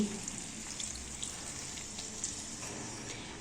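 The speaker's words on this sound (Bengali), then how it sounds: "ভেজে রাখা মাছগুলো এক এক করে দিয়ে দিচ্ছি আর একটু জল দিয়ে দিচ্ছি" Already fried fish pieces and a splash of water go into a hot pan, making a faint, even sizzle with soft spattering crackles throughout.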